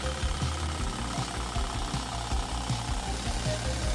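A cordless screwdriver fitted with a saw blade attachment cuts through a 20 mm board outdoors, a loud, rapid rattling chatter of reciprocating strokes holding steady throughout.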